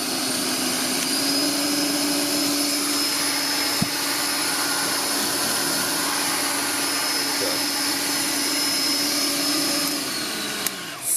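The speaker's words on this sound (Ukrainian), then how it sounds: "І бачимо, у нас щіточка обертається, світлодіоди світяться." A Philips cordless vacuum cleaner runs with its turbo brush spinning on its own, a steady, loud whine and motor hum lasting throughout with a couple of brief clicks.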